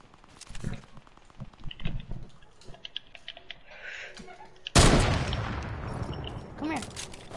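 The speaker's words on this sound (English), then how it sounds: "he's shooting at me?" Video game gunfire starts as scattered light shots under keyboard clatter, then erupts into a loud sustained burst of rapid shooting near the end.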